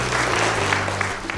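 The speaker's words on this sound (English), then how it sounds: "So let's give those students a round of applause." A school audience applauds students, a short burst of dense clapping with a low background hum, ending within about a second and a half.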